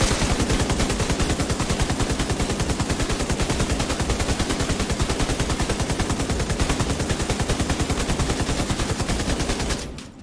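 Sustained automatic fire from a light machine gun in The Division 2 video game, one continuous magazine of rapid, evenly spaced shots at steady loudness for about ten seconds, ending abruptly.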